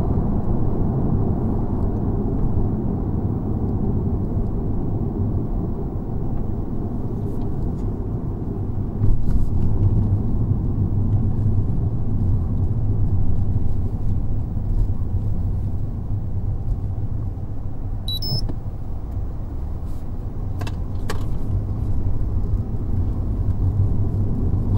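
Lexus ES 250 F Sport with a 2.5 liter petrol engine and 19-inch wheels, heard from inside while driving: a steady low engine drone and road rumble with no clear shift changes, constant and fairly loud throughout.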